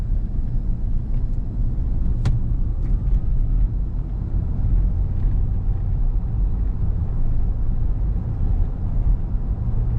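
A 2017 Cadillac Escalade luxury SUV cruising in touring mode, a steady, heavy low road and engine rumble from inside the cabin with a brief faint click partway through.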